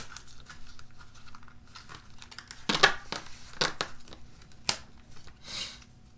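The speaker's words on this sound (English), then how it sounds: "pull them, shuffle and pull a few from the top." A mixed deck of oracle and tarot cards is shuffled by hand, producing several separate crisp riffling bursts over quiet room tone, close and moderately soft.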